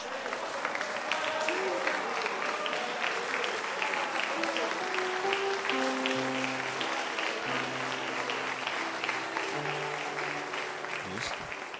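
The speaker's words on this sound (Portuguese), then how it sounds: "Vamos aplaudir o nosso Deus bem forte." Church congregation applauding loudly at a Portuguese-language evangelical service, steady sustained clapping throughout with crowd noise and tonal music or voices underneath.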